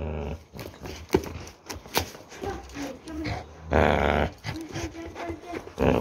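A pitbull lets out loud, close bursts of barks and low growls in an irregular rhythm, mixed with a person talking nearby.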